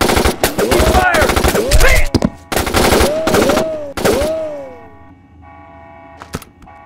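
Loud machine gun fire in a short film rattles out in several long, close bursts, with ricochet-like whines running through them, before trailing off into quieter echoes and a last sharp shot.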